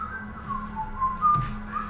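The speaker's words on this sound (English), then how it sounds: "You hear somebody coming down the hallway whistling." A person walking down a hallway whistles a short wavering tune, fairly close, over a low hum with a brief thump near the end.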